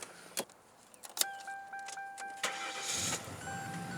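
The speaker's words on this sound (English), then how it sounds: "it starts up nicely" A 1998 Ford Crown Victoria P71 police interceptor starts up. A few quiet clicks and electronic chimes come first, then the engine cranks and catches, settling into a low, close rumble.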